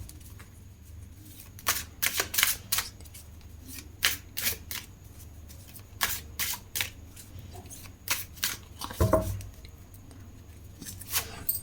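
Tarot cards being shuffled and handled in a series of crisp, papery riffles and snaps, close and fairly loud, recurring in uneven bursts with short pauses between.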